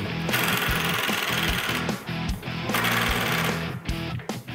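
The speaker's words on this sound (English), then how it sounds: "Here I'm using self-threading screws to attach the jaw pads after drilling the right size holes." Loud, continuous power-drill whirring with several short stops and restarts, driving self-threading screws in bursts to attach jaw pads on a heavy-duty steel vise, close by.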